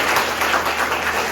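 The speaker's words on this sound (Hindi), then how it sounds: "एक बार राजू जी की तालियां बजाइए।" An audience at a session claps in a brief, dense burst of applause, steady and close throughout.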